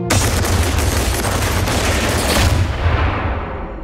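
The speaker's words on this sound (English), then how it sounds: "there was a lot of shooting" Heavy gunfire in a trailer for a film about a violent night in Detroit, a dense close volley of rapid shots and bursts that fades out at the end, with no talking over it.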